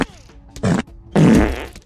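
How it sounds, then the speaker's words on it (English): Several cartoonish farts from the video game Corpus EDAX ring out in quick succession, short bursts followed by a longer, louder sputtering one, with a faint tone and speech-like sound underneath. "They be farting up a storm."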